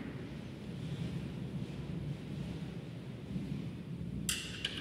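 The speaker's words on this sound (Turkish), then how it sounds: "Rüzgarı duyuyor musunuz ki?" Low, rumbling wind buffets the microphone continuously during snowfall, a steady dull roar with a brief brighter rustle near the end.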